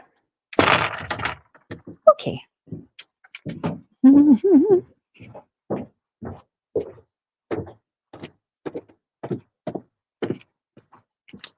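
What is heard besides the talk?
door being closed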